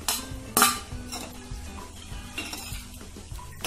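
Watermelon-rind tutti frutti is stirred in sugar syrup in a pan, with quiet scraping and a few sharp metallic clinks of the spoon against the pot, one louder clink near the start.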